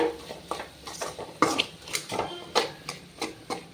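A spoon stirs sundakkai thokku, a thick turkey berry relish simmering in a pan, with repeated soft scrapes and clinks against the metal at a steady, unhurried pace, close and moderately quiet.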